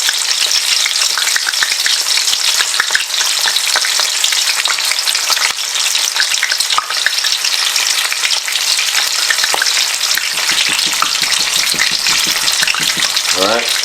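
Flour-dipped chicken fries in hot oil, giving a steady, loud, dense sizzle with constant crackling pops throughout, with no voices over it.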